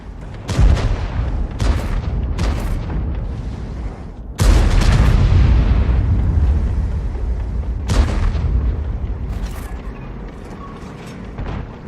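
In a World of Tanks style tank game, the French Lorraine 155 mle.51 artillery fires rounds on the Arctic Region map. Heavy booms and blasts sound, with one big explosion midway, followed by rumbling decay and mechanical clatter.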